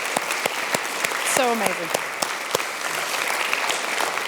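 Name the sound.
applause for Phillip after piano performance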